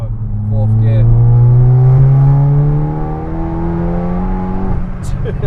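A 632 bhp SEAT Leon Cupra pulls hard in fourth gear, its engine note rising steadily and loud from inside the cabin before easing off near the end.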